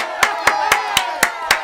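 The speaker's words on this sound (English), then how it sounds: "We clap it up when we get the chance to clap it up." Six sharp hand claps at a steady, even pace about a quarter second apart, fairly close and loud over a constant background hum from a jumping game.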